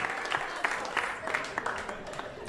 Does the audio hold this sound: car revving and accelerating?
no